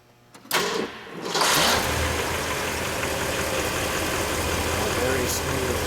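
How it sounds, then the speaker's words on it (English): A 1964 Lincoln Continental convertible's engine cranks briefly and catches, then settles into a steady, smooth idle close by that continues to the end. "Andrew, if you would, start her up, please."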